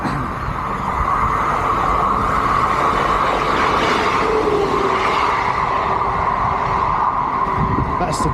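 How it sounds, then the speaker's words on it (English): A train passes nearby along a Scottish route while a runner is out on an ultramarathon, a loud, steady rumble and roar filling the whole stretch with wind noise and some talk underneath. "Oh look, here comes the train."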